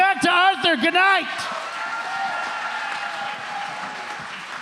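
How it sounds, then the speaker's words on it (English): Audience applause and cheering at a comedy show, entering under a loud whooping voice and then continuing as a steady crowd of clapping in the room. "Give a round of applause."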